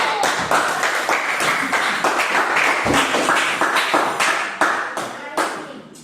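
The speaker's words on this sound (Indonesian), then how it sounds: "Tepuk tangan dulu untuk kelompok 1." Sustained applause from a classroom full of people, dense and steady clapping throughout, fairly loud and close.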